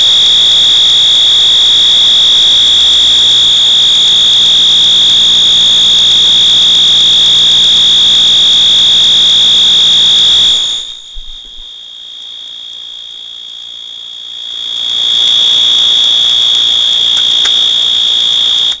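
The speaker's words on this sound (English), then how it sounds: "my Wheelock MT multi-tone horn strobe" A Wheelock MT multi-tone fire alarm horn strobe, wired at maximum voltage, blares a loud continuous high-pitched tone up close. It cuts out for a few seconds, then returns and continues steadily.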